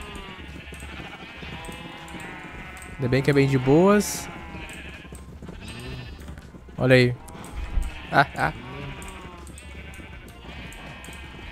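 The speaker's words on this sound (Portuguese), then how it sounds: "Cara, muita, muita ovelha." Sheep in the Minecraft video game bleat several times, loud and close, in short wavering cries, while someone talks casually over the game's background sound.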